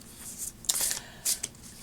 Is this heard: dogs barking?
no